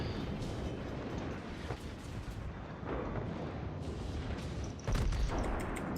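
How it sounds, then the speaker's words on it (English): An IJN Nagato battleship fires heavy naval gun salvos in World of Warships, with deep booming blasts rolling over a continuous rumble and a sharper, louder boom near the end. "Give me like 5 more seconds and I'll do a full salvo."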